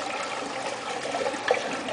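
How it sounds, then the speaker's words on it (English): Water drains through a bulkhead into a fish room sump, a steady rushing gurgle like a flushing toilet, close and continuous for two seconds with no talking. "a bulkhead that's draining the water to my sump"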